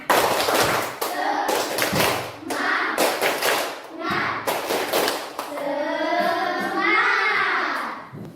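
A school class claps in a patterned rhythm, sharp bursts of hand claps alternating with children's chanting voices, then a sustained sung or shouted phrase.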